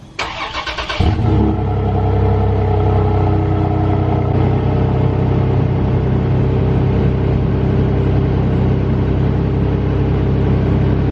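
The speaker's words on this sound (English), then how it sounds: "This is going to be one of the coldest cold starts I ever do on my Tacoma." A frozen 2020 Toyota Tacoma pickup's engine cranks briefly in a very cold start, then fires and settles into a loud, steady idle with a low rumble that continues to the end.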